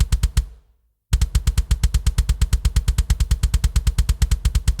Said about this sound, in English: the trigger kicks sound like this